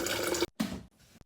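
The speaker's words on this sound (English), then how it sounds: "Just going to get some water." Tap water runs into a kettle in short close bursts, loud and splashy, with a brief stop and restart.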